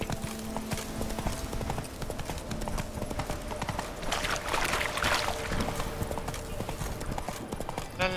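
Horse hooves clip-clop steadily in The Witcher 3: Wild Hunt, a continuous rhythmic trot heard up close beneath faint game ambience and a low musical drone.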